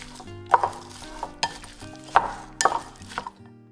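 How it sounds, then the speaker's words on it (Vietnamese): Spoon stirring seasoning powder and ground pepper into a bowl of mixture for fried shrimp cakes, a few distinct scraping clinks and stirring strokes, close and fairly quiet, without talk. "Ở đó mình trộn đều lại rồi để qua một bên luôn"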